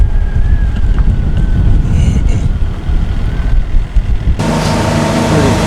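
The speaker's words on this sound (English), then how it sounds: "I think there's about 14 knots of wind right now" Steady loud wind of about 14 knots buffeting the microphone aboard a sailing catamaran on a sea trial, with a low rumble of water and hull, then a sharp shift to brighter rushing noise near the end.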